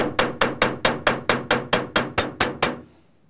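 A chasing hammer strikes metal wire on a hard surface while the ends of an S-hook clasp are flared. There are about eleven sharp, evenly spaced ringing blows at close range, then silence.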